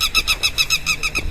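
A bird on an organic farm gives a rapid run of about ten evenly spaced hooting calls, loud and near, with no talking.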